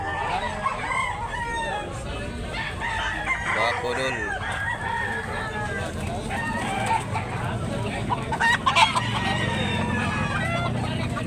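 Chickens cluck and a rooster crows amid a busy, noisy backyard breeders' market in Tabunok, Talisay, Cebu, with people talking nearby and occasional traffic in the background.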